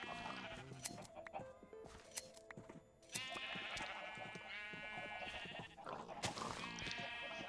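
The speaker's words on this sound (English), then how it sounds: "Also, look at the sheep. They're all black." Sheep in the Minecraft video game bleat again and again over a busy game soundscape, with their calls overlapping and coming through clearly at moderate loudness.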